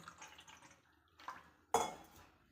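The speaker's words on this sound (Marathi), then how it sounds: "यामध्ये असं पाणी ओतून घ्यायचं आहे" Water is poured into a dish holding gas stove burners, enough to cover them, in a short, close splash that fades quickly, after a few quiet clinks.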